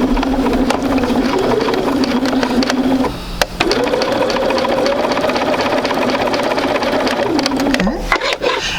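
A sewing machine stitches quilt pieces in a steady, loud, close whir that runs almost continuously, with a brief pause partway through and a small stop near the end.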